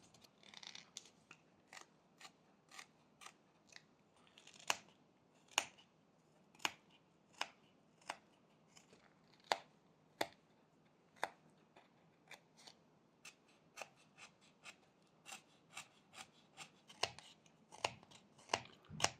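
A whittling knife makes stop cuts in a small wooden Santa carving, producing sharp, quiet clicks and snaps at irregular intervals, close by, with faint scraping between cuts.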